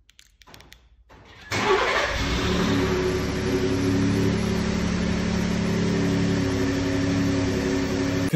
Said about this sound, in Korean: 시동을 거는데 엔진의 그 소리는 남자의 가슴을 울리기에 너무나 충분한